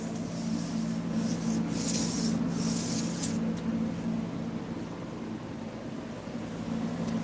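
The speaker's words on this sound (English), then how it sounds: "I'm going to sand all this down and get it nice and smooth." Sanding a diecast racing track smooth gives a continuous close rasping rub, steady broadband scratching strokes with a faint constant hum underneath and no talking.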